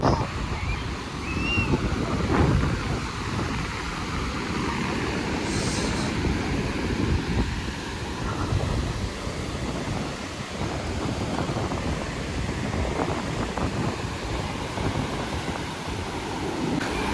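Sea waves at Juhu Beach, Mumbai, on a crowded evening, a continuous rushing surge mixed with heavy wind buffeting on the microphone and faint background voices.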